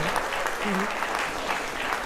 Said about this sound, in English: I think a round of applause here for Tom.